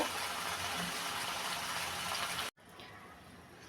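Water poured into a pot of okra and fish-head curry, a steady gushing pour that holds loud and even for about two and a half seconds, cuts off abruptly, then resumes more softly.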